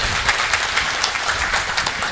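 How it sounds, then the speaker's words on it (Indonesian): Audience applause at an Indonesian Islamic talk event, a dense steady wash of clapping heard alone for a couple of seconds. "Tepuk tangan untuk Mas Deddy Corbuzier."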